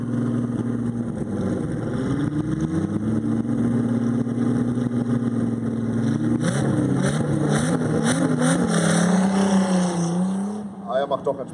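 A turbocharged VR6 Volkswagen Corrado accelerating hard down a quarter-mile drag strip, its engine note climbing steadily and loudly through rising revs with gear changes, continuous for most of the run before dropping away near the end.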